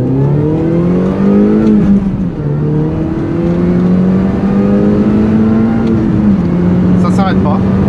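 A Mini fitted with a six-speed gearbox accelerates hard in first gear from a rolling launch, its engine note climbing loud and continuous with brief dips where the revs shift, heard from inside the car.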